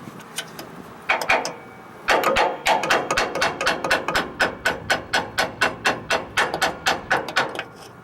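Rapid, repeated hammer blows on metal, knocking a wheel cylinder loose on a 1982 Ford F150, starting with a few spaced hits and then settling into a fast, steady pounding that stays loud and close.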